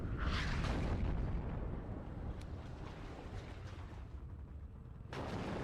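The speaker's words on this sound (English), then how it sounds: "And we see the first artillery piece out here for Strom." Artillery fire rumbles in the WARNO real-time strategy war game as a dense, low, continuous roar of distant blasts, swelling at the start and again near the end, with no voices.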